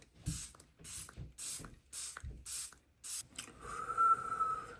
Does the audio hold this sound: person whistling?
no